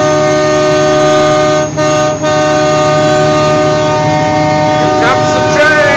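A loud, sustained multi-tone train horn plays through a truck's satellite radio, holding steady with two brief dips before resuming, close and dominant with no talking.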